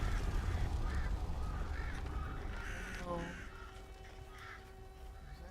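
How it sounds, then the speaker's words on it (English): Cawing of a strange bird in the fantasy game Tainted Grail: The Fall of Avalon, a few harsh calls over steady ambient game noise, with a brief spoken exclamation. "Weird bird again."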